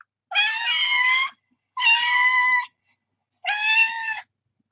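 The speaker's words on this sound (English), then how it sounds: "I have this app called Cat Sounds, and sometimes this will call them." Three separate recorded cat meows play from a phone app, each lasting about a second with short silent gaps between them, loud and clear against silence.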